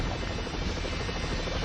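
Helicopter fitted with saws in the game 007 The World Is Not Enough, a loud, steady rotor drone with a buzzing edge that fills the whole moment without pause.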